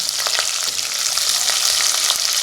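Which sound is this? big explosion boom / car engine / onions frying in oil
onions frying in oil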